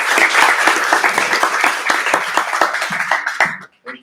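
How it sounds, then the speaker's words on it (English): An audience applauds award recipients at an African American Leadership Council member celebration, a loud, dense burst of clapping that holds steady for about three seconds and then quickly dies away to near silence. "One more round of applause for the recipients, please."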